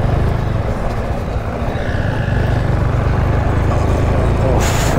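Car driving along a rough, broken mountain road in Sikkim toward Mangan, with a steady loud engine and road rumble and continuous bumping noise from start to finish.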